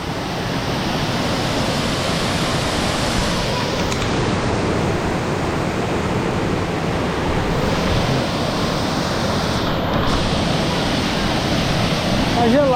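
Véu da Noiva waterfall in Serra da Canastra, Minas Gerais, heard from close by as a constant, loud, broadband roar of falling water that stays steady for the whole stretch with no other sounds standing out.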